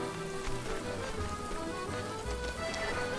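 Steady rain falls in the survival video game Stranded Deep, a dense, even hiss of drops pattering on surfaces that fills the whole stretch with no talk over it.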